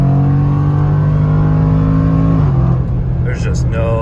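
A Jaguar F-Pace SVR engine with aftermarket cone intakes drones loudly with deep exhaust rumble, its pitch dropping slightly partway through, with a brief higher supercharger whine near the end.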